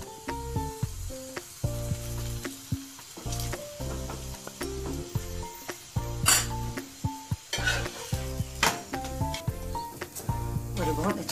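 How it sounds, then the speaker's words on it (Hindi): Mooli paratha frying in ghee on a hot griddle, pressed down with a ladle, crackling and sizzling close up with repeated sharp clinks and scrapes of metal in an uneven rhythm. "तो इसे हम हल्का सा कलछी से दबाएंगे जिससे क्रिस्पी बने, इसे फिर से पलट देंगे और इस साइड में भी घी लगा देंगे।"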